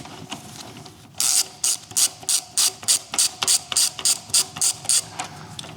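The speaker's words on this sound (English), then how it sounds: "I first will loosen the bolt down here. I need a 17mm" A 17mm ratchet clicks in a steady run of about a dozen sharp, evenly spaced bursts while loosening a bolt on a Royal Enfield Meteor 350 motorcycle, close to the mic, with a low hum underneath.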